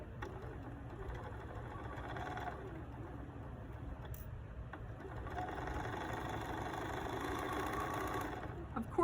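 Sewing machine stitching a quilt pillow: a steady, fast mechanical whirring hum running continuously throughout, fairly quiet with a brief tick partway through.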